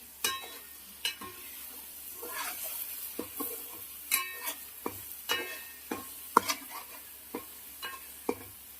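Blended tomato paste, made from eight mixed tomatoes for a fish curry, fries in a pan under a steady low sizzle, with about a dozen sharp scraping strokes of a spoon stirring it at a roughly even pace.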